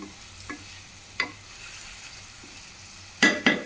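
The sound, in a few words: stirring salt into a tomato dish in a pan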